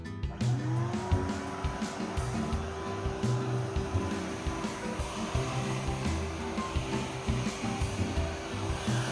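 A vacuum cleaner hoovers out the interior of a barn-find Morris Minor Traveller 1000 under restoration, its motor holding a steady, loud, close droning whine with rough, fluctuating suction noise throughout.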